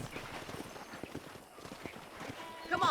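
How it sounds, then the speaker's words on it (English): Horse hooves clip-clop in a steady rhythm while riding in the Red Dead Redemption video game, with game speech and ambient sound mixed in and a louder burst near the end. "let's see if you can still ride a horse."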